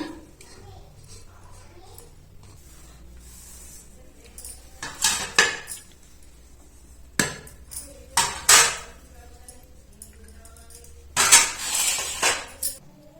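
A spoon clatters and scrapes against a bowl while wheat flour, maida and rice flour are mixed together, coming in several clustered bursts of clinking between quieter stretches, with a voice speaking at times.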